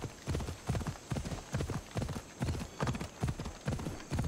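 A horse's hooves clip-clop in a quick, steady galloping rhythm in Assassin's Creed Odyssey, close and continuous against a faint background.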